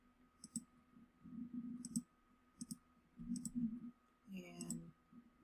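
A computer mouse clicks while someone works in Cricut Design Space. Crisp single clicks fall at irregular intervals, ending in a quick flurry, over a low murmuring voice.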